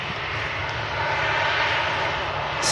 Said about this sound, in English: TUI Dreamliner, going to be entering the active runway now.